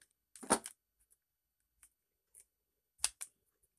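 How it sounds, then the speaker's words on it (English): Metal snippers cut the plastic from a hot cocoa mug in short crisp snips, one sharp cut early, a few faint clicks, then a second clear snip. "My cutting tool of choice today is my snippers."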